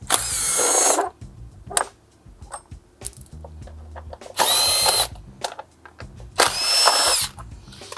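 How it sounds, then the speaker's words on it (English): Power tool backing out T40 Torx bolts on a front bumper fascia, three loud whirring bursts of a few seconds each separated by quieter clinks and handling noises. "we're gonna grab our T40 Torx, undo these 4 bolts here."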